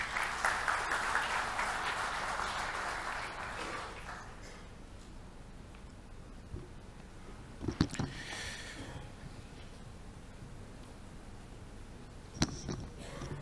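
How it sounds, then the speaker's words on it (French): A conference audience claps for the introduction of the Democratic Republic of Congo's economy minister. Dense applause fills the first few seconds, then fades out, leaving a quiet hall with a couple of isolated thumps. "Sous vos applaudissements, s'il vous plaît."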